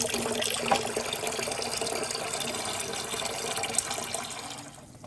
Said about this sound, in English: next into the bucket is going a gallon of water